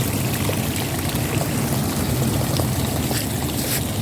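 Water flowing in a channel beside an outdoor stairway, a steady continuous rushing stream with no talk over it.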